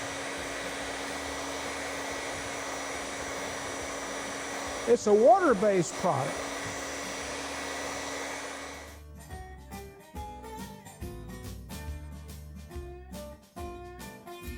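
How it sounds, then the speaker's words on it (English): A hair dryer blows steadily on water-based Timbermate wood filler, a loud even whoosh lasting about nine seconds while a person talks over it, then it cuts off and music takes over. "I'm going to use a hair dryer"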